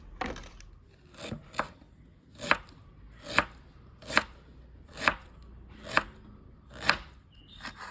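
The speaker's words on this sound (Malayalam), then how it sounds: "നമുക്ക് ഇഞ്ചി അരിഞ്ഞെടുക്കാം കേട്ടോ" A knife chops ginger finely on a board with sharp, evenly spaced taps, roughly one per second, close and crisp against a quiet kitchen background.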